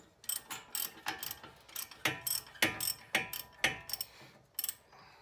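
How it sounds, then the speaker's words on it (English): A tool strikes the front suspension strut of a JDM car during a front brake disc change: a series of sharp metallic knocks and taps in an uneven rhythm, close and fairly quiet, with no talking. "Hence you can hear me hitting the strut, trying to work it out."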